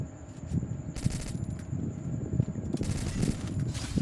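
Heavy automatic gunfire rattles in a video game shootout, with rapid bursts of shots cracking in clusters and short pauses between volleys, fairly loud and close.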